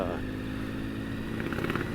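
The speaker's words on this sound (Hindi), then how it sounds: "There's the moped that is coming" Moped engine passing by on a Sunday ride, a steady buzzing hum that swells slightly toward the end, mixed with faint background noise.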